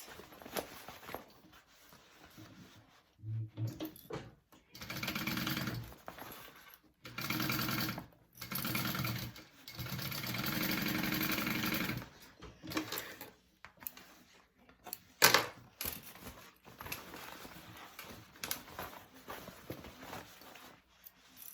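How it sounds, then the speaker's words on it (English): A sewing machine stitches up the corners of a fabric bag in several bursts of steady mechanical whirring, separated by quiet pauses, with no talking. "sew those corners up"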